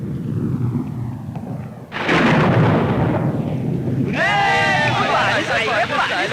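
Thunder rumbles during rainfall, a broad roar swelling in abruptly partway through and staying loud, with dense rain hiss and a bright crackling layer joining later.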